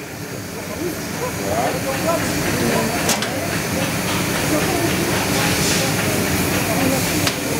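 A machine on a shoe production line blasting heat to reactivate glue on a sole, a loud, steady rushing hiss that builds in the first second and then holds, with a voice faintly underneath.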